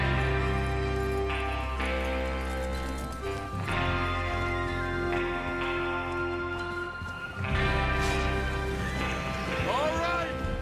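Horses in Red Dead Redemption 2 whinny and their hooves clip-clop as a gang of outlaws prepares to ride out for a train robbery, layered under steady music and voices throughout.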